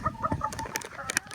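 Several chickens cluck in quick, overlapping bursts inside a snow-covered coop, close and fairly loud, with a few sharper squawks near the end.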